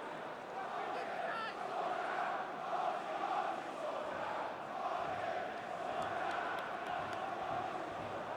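Football stadium crowd at a Leicester City v Blackburn Rovers Championship match chanting in a steady, rolling wave, distant and continuous, with a commentator speaking over it.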